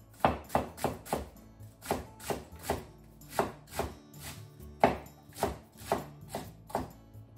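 A knife chops ingredients into pieces about 2 inches long on a cutting board for a miso butter hot pot. About sixteen crisp, close knocks fall in quick, uneven bursts, with no talking.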